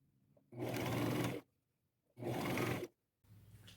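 Sewing machine stitching ruffles onto a thrifted boho skirt, two short close bursts of whirring stitches separated by quiet pauses, followed by the start of a third.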